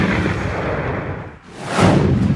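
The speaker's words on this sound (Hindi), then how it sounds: "इस विस्फोटक का इस्तेमाल बड़ा धमाका करने के लिए होता है।" A packaged emulsion explosive detonates in a deep, rumbling blast that fills the clip, dips briefly, then swells into a second loud, broad roar with no voices.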